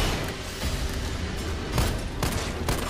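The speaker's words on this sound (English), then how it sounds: "Another flash grenade." Flash grenades and gunfire in the video game Resident Evil 4 go off in a busy firefight, sharp bursts and booms over a continuous rumbling din, with no talking.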